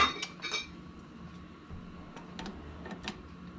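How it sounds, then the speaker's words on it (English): Metal utensils clink and rattle while someone digs through a kitchen drawer for a wire whisk, a few bright clatters near the start, then softer scattered clinks over low background noise. "Got to find my wire whisk at the bottom."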